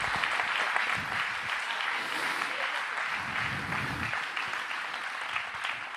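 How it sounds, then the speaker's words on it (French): Steady audience applause greeting guests at a 2022 general assembly, a continuous wash of clapping at moderate level, with low voices murmuring underneath at moments. "on peut les applaudir déjà, s'il vous plaît"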